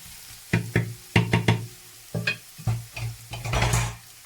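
Eggplant and other vegetables stirred in hot oil in a pan: a steady close sizzle broken by repeated scraping and clinking strokes of a utensil against the pan, with no talking.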